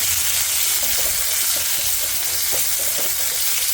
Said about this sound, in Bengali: এবার ওটা আমি দিয়ে দেবো কুচানো পেঁয়াজ